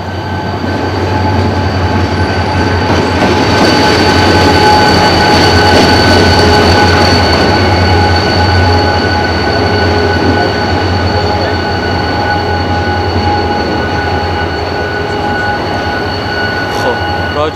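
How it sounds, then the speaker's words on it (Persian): A train passing by close and loud, a continuous rumble and clatter of rail cars with steady wheel noise and squeal tones holding for over fifteen seconds. "اگه صدای این قطاری که الان میخواد رد بشه این بذاره، من حتما توضیح میدم برات"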